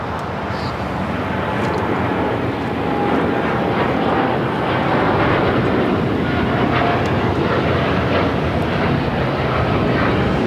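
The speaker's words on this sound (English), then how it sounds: "This is United Airlines 801 taking off to Hong Kong on the 787-9 Dreamliner." A United Airlines Boeing 787-9 Dreamliner takes off at LAX, its jet engines a steady loud roar that builds slightly as the aircraft climbs away.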